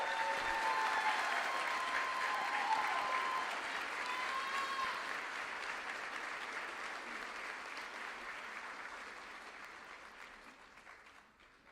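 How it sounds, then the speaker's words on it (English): A high school honors night audience applauds scholarship students returning to their seats: steady, full applause from a large crowd that holds for about ten seconds and then tapers off at the end. "let's have a collective round of applause for these students"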